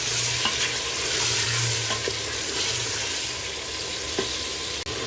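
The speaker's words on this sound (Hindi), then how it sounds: "इसको अच्छी तरह मिक्स कर देंगे और इसके साथ में ये फ्राई भी हो जाएगा।" Beans, meat and potatoes stir-fry in a pan as a spoon scrapes and turns them, a steady close sizzle running throughout with occasional louder scrapes and no voices.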